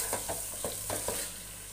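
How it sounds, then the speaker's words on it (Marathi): Soft scraping strokes of a spoon stirring chicken biryani masala in a pan over a high flame, several quick rhythmic scrapes over a constant quiet sizzle of frying, close and fairly faint. "पण हे सतत असं परतवत राहायचं आहे आपल्याला."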